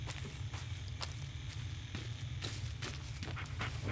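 A dog in the Blair Witch video game pants and pads along with soft rhythmic footsteps, quiet and steady over a constant low ambient hum.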